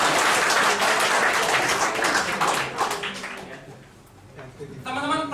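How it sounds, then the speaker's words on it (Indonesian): Audience applause for Prudential at an agent franchise presentation, loud dense clapping that fades over a few seconds before a voice begins speaking. "Tepuk tangan untuk Prudential."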